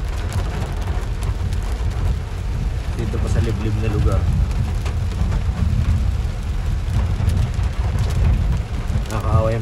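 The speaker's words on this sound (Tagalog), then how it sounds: "Ano nga yan, puro ulan." Heavy rain pours steadily in a remote rural area during bad weather, a dense close roar with a low rumble underneath, while someone talks over it throughout.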